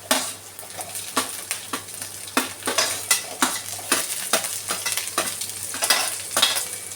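Vegetables including capsicum and green beans sizzle in a pan with onion for healthy veg and paneer fried rice, a steady frying hiss broken by repeated stirring scrapes and clinks of a spatula against the pan.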